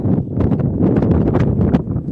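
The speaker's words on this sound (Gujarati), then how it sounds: "અહીં એટલો પવન જ બહુ આવે" Strong wind buffets the microphone in loud, continuous gusts at the Gopnath Mahadev temple, roaring and rumbling with no pause.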